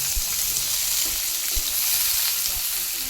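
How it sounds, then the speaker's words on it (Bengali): Ginger paste and green chili fry in a pan with a steady, close sizzle, broken by a few soft low knocks from stirring. "আদা বাটা আর কাঁচা লঙ্কা উপর দিয়ে ভালো করে সেটাকে ভেজে নিলাম"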